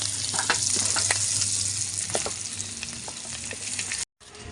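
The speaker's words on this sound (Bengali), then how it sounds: "বন্ধুরা সবকটা মাছ একইভাবে ভেজে নেব" Katla fish pieces fry in hot oil in a wok, giving a close, steady sizzle dotted with sharp spatters and crackles, alone with no voices, then a brief cut.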